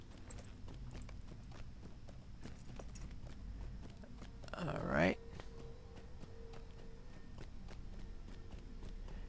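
Horse hooves clip-clopping in the Lord of the Rings Online video game, a short burst of steady hoof beats under background noise, with a voice speaking briefly.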